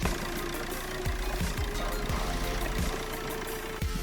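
Car engine running just after being started at an auto repair shop, a steady idle with a rough knocking pulse ticking irregularly underneath, close and loud.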